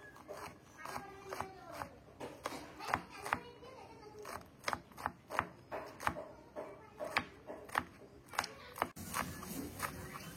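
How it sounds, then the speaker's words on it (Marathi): Dragon stalk yam (shevla) being finely chopped with a knife on a board, a steady run of crisp, close cuts at an even rhythm, with quiet talk underneath. "धुवून झाल्यानंतर आपण ही बारीक बारीक कापून घेऊया"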